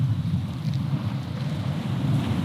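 Steady wind buffets the microphone out on open water, with a low rumbling roar and faint lapping of waves from a rocking boat, continuous and loud with no talk.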